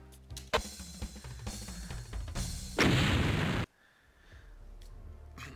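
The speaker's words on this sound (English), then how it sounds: "Going with the super shotgun because they think, yeah, it's superior than the simple shotgun." Super shotgun blasts in the Doom video game: loud, heavy booming shots with clattering mechanical action, ending in one big roaring burst that cuts off to quiet ambient hum.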